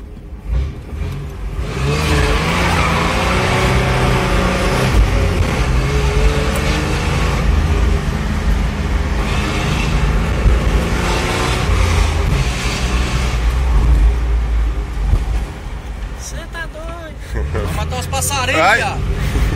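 A carbureted Chevrolet Blazer V6 pulling hard under acceleration, a loud sustained engine roar rising in pitch through a long run, with people talking and exclaiming over it from inside the vehicle.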